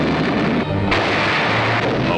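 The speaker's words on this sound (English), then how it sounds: "The wounded must travel with the French forces, who now rake the communist Viet Minh rebels with shell fire." Artillery shell fire from French forces in the Indochina war, heard as a 1953 newsreel recording: a dense, loud, continuous roar of booming blasts filling the whole short stretch.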